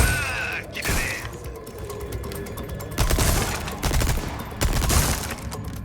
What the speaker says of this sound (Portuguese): Sai atirando em tudo.